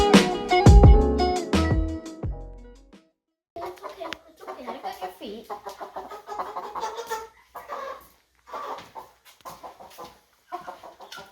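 Ten-week-old Buff Orpington chickens cluck and murmur steadily at close range, with a brief louder squawking burst at the start.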